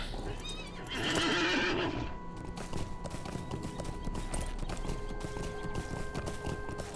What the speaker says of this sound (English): Jump on our horse.